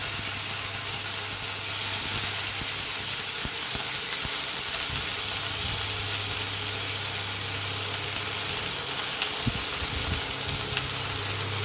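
Onions and tomato fry in a pan for a Goan banana stem stir-fry, giving a continuous dense sizzling hiss with faint low hum and a few small clatters, steady and close with no talking.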